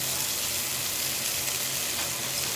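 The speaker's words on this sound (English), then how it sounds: "So I'm going to cook these down until they disintegrate in the oil" Anchovies cooking down in oil in a skillet give a steady, close sizzle, an even bright crackle of frying that holds without pause.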